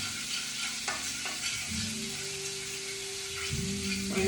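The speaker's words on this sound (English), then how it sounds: "So you continuously stir your garlic." Garlic fries in a pot while being stirred continuously, a constant bubbling sizzle with occasional utensil scrapes and taps, close and moderately loud with faint musical tones underneath.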